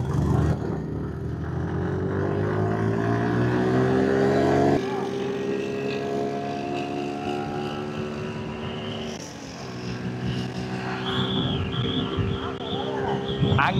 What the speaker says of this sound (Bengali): আঙ্কেলের হান্টারের সাথে আমার জিক্সারের একটা রেস।